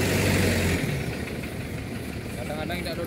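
A car engine idles and rumbles as vehicles queue to drive off the KMP Pulo Tello ferry, a low steady hum with a heavier throb at the start, mixed with background ship and vehicle noise.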